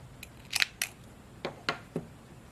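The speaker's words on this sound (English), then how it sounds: "cut my yarn" Scissors snip through crochet yarn with several sharp, close clicks: a quick double snip followed by a few evenly spaced cuts in a quiet room.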